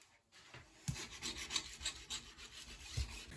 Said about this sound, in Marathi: मी हे जे घाण झालेले आहे प्लेट्स, त्याच्या गॅस जो घाण झालेला आहे, चिटकलेला आहे कुकिंगमुळे, तर ते असं घासून घेते.